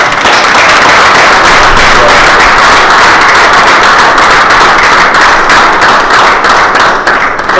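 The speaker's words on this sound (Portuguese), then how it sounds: "Uma salva de palmas." Loud, dense applause from a debate audience in Portugal fills the space without letup, sharp claps crackling throughout at steady intensity.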